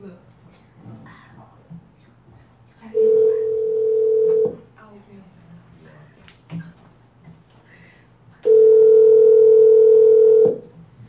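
A telephone rings out during a prank call, two long loud steady ring tones separated by a quiet gap of soft background sounds.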